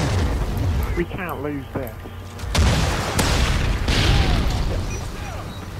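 Grenade explosions in a multiplayer video game, booming blasts rumbling among game noise while a voice talks excitedly over them.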